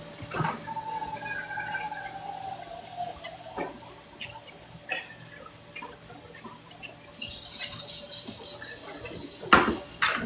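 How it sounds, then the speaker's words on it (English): Yams are rinsed under a running kitchen tap: scattered clunks and knocks of the tubers at the sink, then a steady rush of water that swells louder near the end with a couple of sharp bumps. "Okay, I rinse the yams off."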